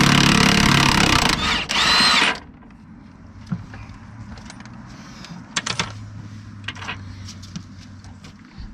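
A power tool with a 1 1/8 socket spins off the shock absorber bolt on a 2004 Mack Vision truck: a loud, steady whir for about two seconds, then quieter metallic clinks and taps.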